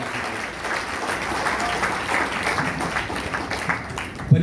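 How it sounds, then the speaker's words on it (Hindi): A dense wash of audience applause at a Hindi poetry recital, many hands clapping continuously and fairly loudly without any voices over it. "एक बार जोरदार तालियां"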